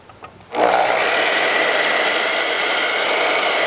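A power saw cuts through PVC corner trim: after a brief quiet moment the blade roars up abruptly and holds a loud, steady, high whine for about three seconds before stopping, close by and with no voices.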